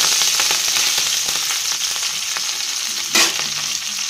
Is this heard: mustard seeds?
yes